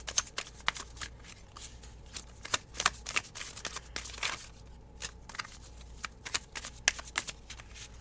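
Tarot cards shuffled and drawn by hand, a quick run of close, crisp riffling snaps and soft slides in an uneven rhythm, heard on their own with no talk.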